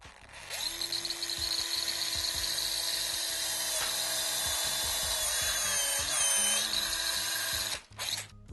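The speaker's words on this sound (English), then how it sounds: "now that we're done drilling" Power drill boring through the plastic shell of a 2003-2006 GMC Sierra grille during a Status grille install, a steady loud whine running continuously with slight pitch shifts, then stopping abruptly near the end.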